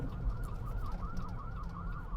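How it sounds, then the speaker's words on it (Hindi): An ambulance siren wails in traffic, heard from inside a car as a steady, repeating rising-and-falling tone over low road rumble, fairly loud and continuous throughout. "एम्बुलेंस की आवाज़ आ रही है।"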